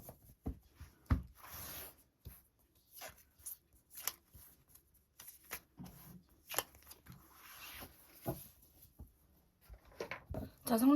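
Tarot cards are drawn and handled at close range, giving a series of quiet, irregular rustles, slides and taps with pauses between them.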